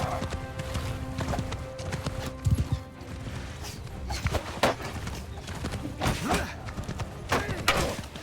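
Horse hooves clip-clop in the Realm of Thrones video game, a fast run of hoofbeats with thumps under busy battle noise and a low sustained hum.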